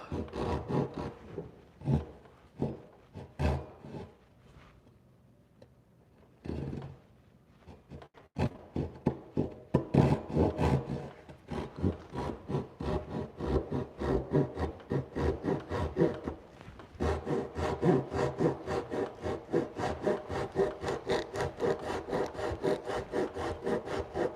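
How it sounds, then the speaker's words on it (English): A Japanese pull saw trims a piece of wood with rhythmic rasping strokes, close and clear. The strokes start sparse, pause briefly, then settle into a fast steady cutting rhythm, with no talking. "we're just going to trim it back. A little Japanese pull saw."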